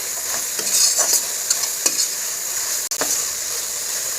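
Turmeric and chili powder frying with a splash of water for cauliflower dal, a loud, steady hiss of sizzling oil with a few soft scrapes of stirring, close up.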